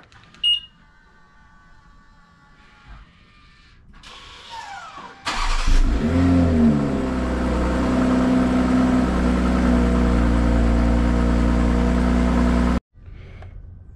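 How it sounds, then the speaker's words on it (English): A 2020 BMW M340i cold-starts: faint chimes and clicks, then a sharp crank and the engine catches with a loud flare, settling into a steady elevated idle before cutting off. "here's a cold start to kick it off"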